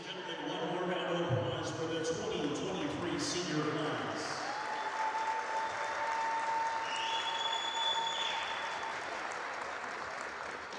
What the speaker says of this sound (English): one more round of applause for the 2023 senior class.